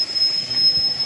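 Indian train wheels squeal on the rails between Dehradun and Punjab, a loud, sustained high-pitched whine over a low rumble of rolling stock.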